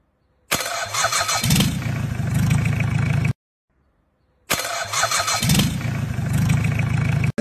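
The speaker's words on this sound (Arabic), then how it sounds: "حنا توا باش نوريكم كيفاش يخدم الدمرير بالكهرباء" A car starter motor being run on electricity, whirring loudly in two bursts of about three seconds each, separated by a pause of about a second.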